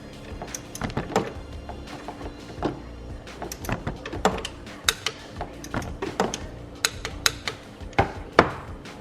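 A lock nut on a supercharged Toyota 4Runner's suspension is tightened to torque spec with a wrench, giving a string of sharp metallic clicks and ratchet taps at irregular intervals in a quiet garage.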